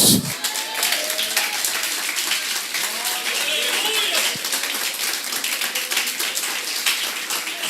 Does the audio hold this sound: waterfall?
no